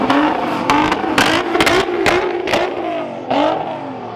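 A loud, throaty Bugatti Veyron engine burbles and crackles steadily up close while rolling in neutral, with rapid popping bursts over a continuous low rumble.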